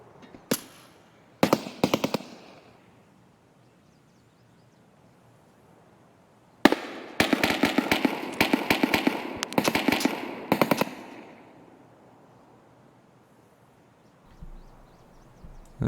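Gunfire from players fighting in Escape from Tarkov, a sniper scav loadout on a mountainside near two crossings: distant bursts of sharp cracks, a few isolated shots early, then a dense rapid volley for several seconds, followed by quiet.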